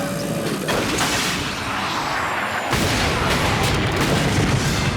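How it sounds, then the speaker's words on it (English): Rocket fire from the Devastator launcher in Ratchet and Clank: loud, dense blasts and rumbling booms fill the whole stretch, with a sharp new burst about halfway through. "Pete here is going to try to hit, hold on, that target with the Devastator, a rocket launcher designed for Ratchet and Clank"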